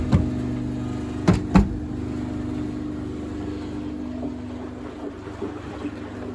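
A Miele WFP3300 washing machine running a citric acid descaling wash gives a steady low mechanical hum, broken early by two or three sharp knocks or rattles, then a continuous drone.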